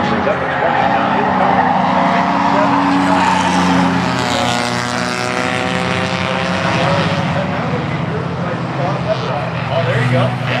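Race car at a junk car heat race accelerating down the track, loud sustained engine drone with rising harmonics and rough roar, a commentator talking over it throughout.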